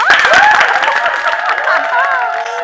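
Audience applause and cheering at a live comedy talk show, dense clapping with voices shouting over it, steady and fairly loud throughout.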